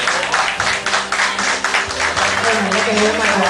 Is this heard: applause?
yes